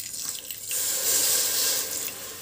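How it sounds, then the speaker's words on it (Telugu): A small glassful of water poured into a pan for coconut boorelu sugar syrup, a steady close splashing pour that swells and runs for a second or two with no talking. "ఈ చిన్న గ్లాస్తో 1 గ్లాస్ వాటర్ పోసుకుంటున్నానండి"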